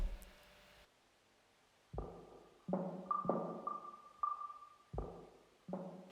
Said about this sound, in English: just go pure reverb, which I think gives it quite a cool effect